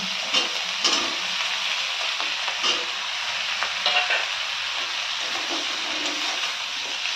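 Potatoes stirred into a frying pan with bottle gourd stems, a steady close sizzle of hot oil with scattered scraping clicks of a spoon throughout.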